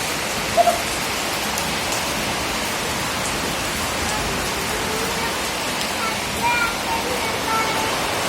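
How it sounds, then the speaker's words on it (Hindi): Heavy rain pours steadily as a dense, continuous hiss with scattered drips and patters, no voices over it. "तो बहुत ही तेज बारिश हो रही है।"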